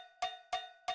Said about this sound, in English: Oh, cowbell. Who doesn't need more cowbell?